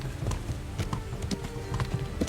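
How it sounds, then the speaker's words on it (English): Horse hooves clip-clopping along a path while riding in Kingdom Come: Deliverance, a steady rhythmic series of close hoof strikes with no voices. "When riding, you can give your horse its head and it will stick to the path you're on"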